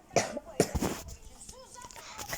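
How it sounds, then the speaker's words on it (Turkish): A young girl coughs hard and repeatedly, several sharp bursts close together at the start, followed by quieter throat noises and faint background sounds. "Kızım çok öksürüyorsun."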